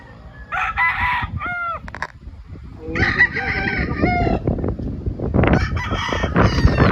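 Chickens and a rooster on a farm, several loud, close crows overlapping with clucking and other hens calling, filling the whole stretch without talk.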